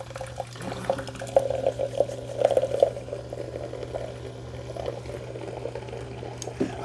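Ninja Thirsti soda maker dispensing water into a cup, a modest liquid flow with gurgling and trickling over a steady machine hum, fairly close, with no talk.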